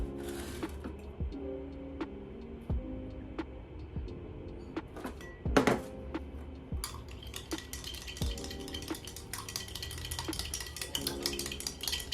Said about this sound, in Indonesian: Di sini saya sudah menyiapkan baking soda dan saya akan mencampurkannya dengan air.